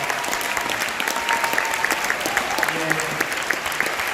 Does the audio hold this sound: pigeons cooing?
no